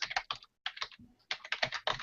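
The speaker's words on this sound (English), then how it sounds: "So if I were to type code like this," Code being typed on a computer keyboard, with close, clicky keystrokes in quick bursts separated by brief pauses.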